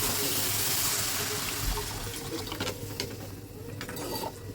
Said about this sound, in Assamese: মছলাখিনি ভালকৈ ভাজি হোৱাৰ পিছত এতিয়া দিম মই পানী।